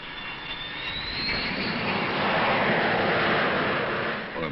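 A jet aircraft flies past, its engine roar building to a loud, steady rush with a rising whine before easing slightly at the end, heard alone without voices.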